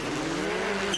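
A WRC2 rally car launches off the start line at a Rally Sweden shakedown, its engine revving loud and close in a rising, strained roar with some tire noise.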